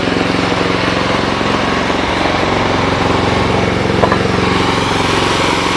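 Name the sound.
Bolens 1050 garden tractor engine running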